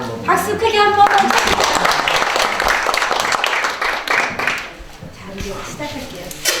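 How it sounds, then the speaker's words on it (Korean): An audience at a Korean village community network meeting in Icheon claps for a few seconds, the clapping swelling then fading, with a speaker's voice talking over and after it. "박수 크게 한번."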